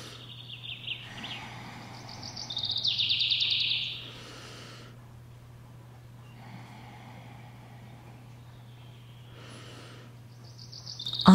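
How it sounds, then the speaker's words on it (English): Faint, sparse bird chirps over a steady low hum, with a few brief higher calls scattered through an otherwise quiet outdoor scene. "I hear birds singing"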